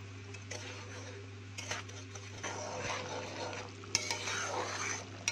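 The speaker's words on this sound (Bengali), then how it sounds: "কর্নফ্লাওয়ার দেওয়ার পরে আস্তে আস্তে খুন্তি দিয়ে নাড়তে থাকবো যতক্ষণ না পর্যন্ত চাটনিটা ঘন হয়ে আসে" A spatula stirs a thick wax apple chutney with cornflour in a pan, giving soft scraping and light sizzling with occasional sharper knocks against the metal over a steady low hum; no one speaks.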